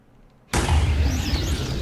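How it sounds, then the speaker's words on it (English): A spell projectile strikes in the Minecraft modpack Psi magic and sets off an explosion: a sudden loud burst that erupts after half a second of near silence, then holds as a sustained rumbling roar to the end. "Wherever the projectile hits, there's an explosion."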